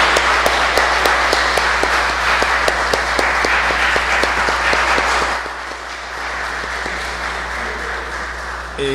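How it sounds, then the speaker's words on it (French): A church congregation in the sanctuary gives sustained warm applause for a pastor's lecture, the clapping dense and loud for about five seconds before it thins and fades. "notre pasteur, le docteur Leslie Jules, dont nous vous demandons de saluer la prestation avec de chauds applaudissements."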